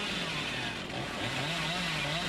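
Chainsaw in the Dead by Daylight video game, a steady loud revving engine drone with a pitch that rises and wavers, running continuously throughout with no talk.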